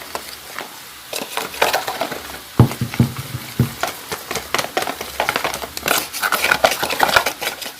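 Flour being stirred into homemade pizza dough in a bowl, with a steady run of soft scraping and clinking strokes close by, no voices.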